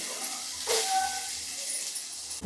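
A sudden burst of sizzling as onions drop into hot oil in a pan, settling into a quieter steady crackle and hiss.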